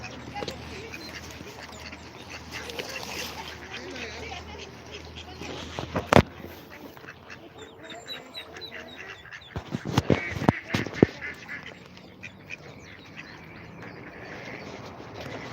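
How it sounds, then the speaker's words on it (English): Ducklings and ducks around a duck pond on an outdoor walk give scattered soft quacks and peeps over steady outdoor background noise, with a few sharper knocks and handling sounds and people talking nearby. "Cute little baby ducks."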